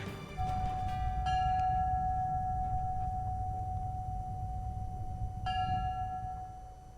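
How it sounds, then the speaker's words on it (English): Bells ring along the Ocean City Boardwalk in a 9/11 remembrance, sending out a steady sustained tone with two fresh strikes that swell and then slowly fade, set against a low outdoor rumble. "Bells ringing on the Ocean City Boardwalk to commemorate those who were lost in 9/11"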